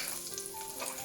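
Chopped onion, garlic and ginger sizzling in hot oil in a pan: a quiet, steady crackling hiss with no voices.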